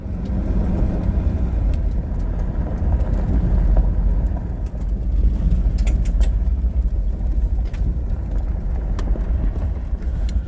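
Jeep 392 crawling over rugged Sonoran Desert terrain toward a slot canyon in Arizona, a steady low engine rumble with bumpy rattles and crunching from the trail, loud and close throughout.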